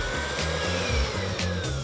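An electric mixer whirs steadily, beating cake batter with an egg and scraped vanilla seeds, a close continuous motor drone with slight pitch wobble as the beaters work through the mix.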